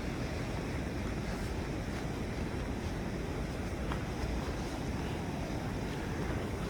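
Water flows past at Niagara on a snowy day, making a constant broad roar mixed with wind buffeting the microphone. The sound stays steady and unbroken, with no talking.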